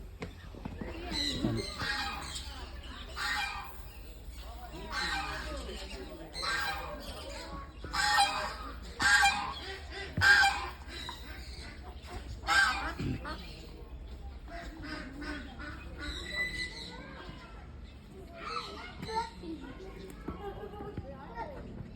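Geese and ducks honk and quack at Sidkeong Tulku Bird Park in Pelling, with bursts of loud calls at irregular intervals and people talking nearby.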